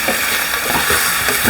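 Meat fries in a hot pan with no salt or turmeric added yet, a loud continuous sizzle with soft stirring scrapes heard close up and no voices.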